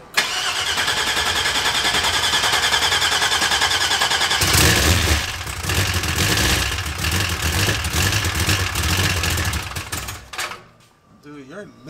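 A 1970 Oldsmobile Cutlass with a 6.0 engine and a sloppy stage 2 cam turns over and fires, then idles loud and close with a lumpy, choppy rhythm and a steady roar before cutting out at the end; voices talk over it.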